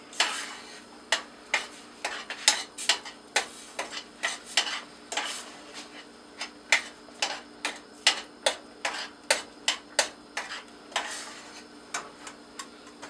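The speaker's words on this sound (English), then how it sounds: "I'm sauteing them nicely" Carrots sautéing in a pan for an Ayurvedic carrot dessert, giving a quick run of sharp ticking sizzles and stirring clicks, close and moderately loud, with no talk.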